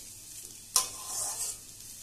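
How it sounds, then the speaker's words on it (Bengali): Ginger paste frying with papaya in a pan: a sharp scrape of stirring is followed by a soft, swelling sizzle and a swish before it fades back to a low hiss. "আদাটাকে এবারে নেড়ে চেড়ে নিয়ে 2 মিনিটের জন্য ভেজে নেব"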